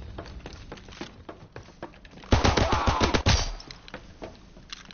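Rapid bursts of gunfire in the World War II shooter Call of Duty WWII, a string of sharp cracks that swells into a dense, louder volley midway before thinning out again.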